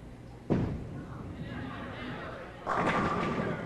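A bowling ball hits the pins in a 1990 senior championship title match: a sharp thud, then a louder clattering crash a couple of seconds later, over the background murmur of the venue.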